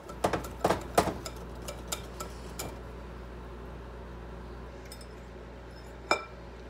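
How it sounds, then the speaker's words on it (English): A utensil clinks against a bowl while pancake batter is mixed, with a few sharp taps early on, then quieter stirring and one last clink near the end. "So I need to mix it."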